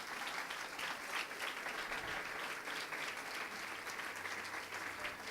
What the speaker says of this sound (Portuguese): Aplauda o nome do Senhor